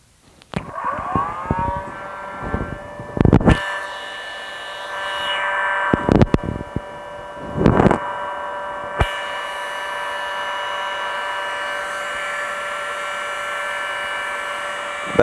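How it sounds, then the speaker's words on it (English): A heat gun spins up with a rising whir and blows hot air onto heat shrink tubing over groups of LEDs. Its steady tonal hum is broken by a few bumps and clicks of handling nearby, with no talking. "A bit of a wave of hot air and they shrink around each group of 3"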